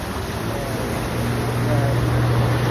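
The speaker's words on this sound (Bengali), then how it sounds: "এই যে বোট আসছে, বোট, ওয়াটার বোট" A water boat on a lake gives a steady low engine hum over a broad wash of wind and water noise, holding even and fairly close throughout.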